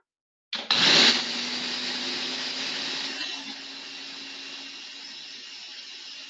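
A kitchen blender whirs up suddenly and runs at a steady high-pitched whine while mixing salsa ingredients, with a rough grinding start that smooths out after a few seconds, loud and close with no talking.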